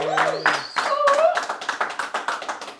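An audience at a Spanish-language salsa storytelling event claps in a steady, even rhythm, starting after someone speaks briefly and continuing close and fairly loud to the end.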